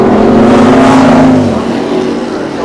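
A small-block Chevrolet-powered Celica drag car runs at full power in a loud, close engine blast whose pitch holds and then drops as it moves away.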